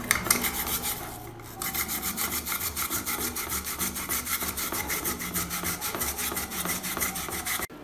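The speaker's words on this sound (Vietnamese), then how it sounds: "Tiếp đến chúng ta bào nhuyễn củ khoai tây." A raw potato rubbed over a kitchen grater: loud, continuous rhythmic rasping strokes in quick succession, close up, pausing only briefly near the start, with no talking.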